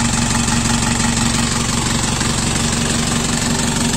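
A diesel engine with a faulty idle-up runs at idle, a steady loud rumble with a knocking pulse and a constant broad hiss layered over it, close by, with no speech.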